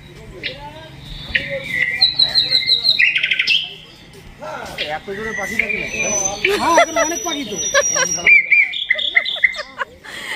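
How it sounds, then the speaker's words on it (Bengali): Loud, close birdsong at around 3 a.m. in Phulia fills the air: shrill chirps, whistles and trills in rapid bursts, with a brief quieter gap, and people talking faintly underneath. "এত জোরে পাখি ডাকে নাকি?"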